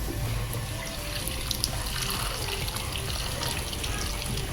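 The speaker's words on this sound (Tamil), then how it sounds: "இப்போ இதை வேகிறதுக்கு தேவையான தண்ணி" Water pours steadily into a cooking pot for boiling yellow pumpkin kootu, a continuous splashing gush with no voices.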